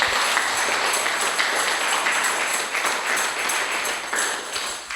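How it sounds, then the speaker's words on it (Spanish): A church congregation claps steadily together in a dense, sustained wash of hand claps with a faint rhythmic pulse, loud and close, with no voices standing out. "Entonces, dale palmas al Señor."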